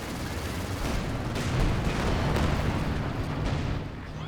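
An artillery barrage in the video game Company of Heroes 2 sounds as a dense, sustained roar of blasts and rumbling shell impacts, loud and continuous with a swell in the middle and no speech over it.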